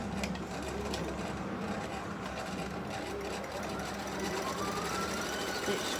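A sewing machine stitches straight across the open bottom seam of a fabric bag made from a cushion panel, a quiet, steady mechanical hum running the whole time.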